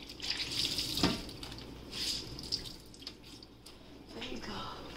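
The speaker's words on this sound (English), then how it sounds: "I'm gonna wash my rag. Wash my rag out." A rag is rinsed under a running kitchen tap while cleaning a refrigerator; water streams and splashes steadily into the sink at close range, with brief swells as the cloth is worked under the flow.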